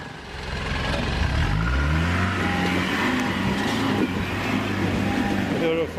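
A 4WD vehicle climbs a rock shelf on a bush track in the Watagans, its engine revving loud and close as it accelerates in a low gear, the pitch climbing and holding under steady strain. Voices may be faintly present beneath the engine.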